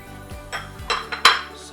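A utensil knocks and scrapes in a bowl while flour, baking soda, salt and sugar are mixed, with a few sharp clinks and short scraping strokes close by.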